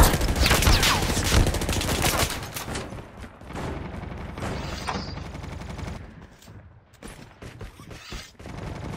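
Pistol gunfire in the mobile shooter Call of Duty Mobile rattles in dense rapid bursts, loud and close at first, then thinning into scattered shots and game effects, with little or no talk over it.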